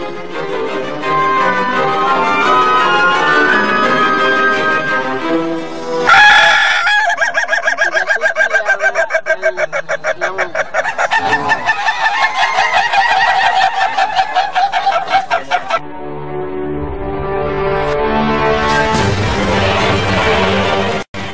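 A rooster crows loudly and close by in long, repeated calls while chickens cluck around it. The sound shifts abruptly between segments.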